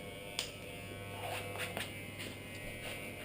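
Electric hair clippers fitted with a number 2 guard hum with a steady close-up buzz, marked by a few brief sharper bursts as the blades move against hair.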